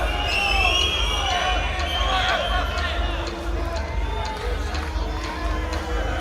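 A home crowd at an AMMA mixed martial arts championship jeers and shouts in a steady, dense roar of voices, heard from within the arena.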